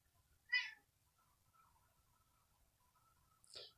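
A cat meows twice with some seconds between, the first call short and clear and the second a little fainter, both heard alone over a quiet background.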